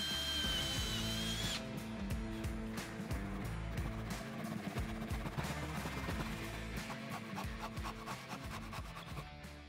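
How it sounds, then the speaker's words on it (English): An electric drill bores a 6 mm hole in wood, a steady whirring, continuous grinding drone with rapid rough texture, close and loud, with no talking. "I'm gonna drill a hole here and here"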